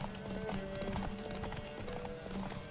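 Roach, Geralt's horse in The Witcher 3: Wild Hunt, gallops during a race, its hooves clip-clopping in a quick, steady rhythm over a busy game soundscape with faint background ambience.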